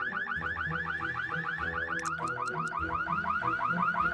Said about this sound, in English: Burglar alarm.